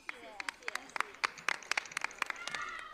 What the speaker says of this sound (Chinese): 那我们再一次把热烈掌声送给三位